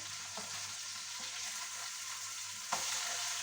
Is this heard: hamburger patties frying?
yes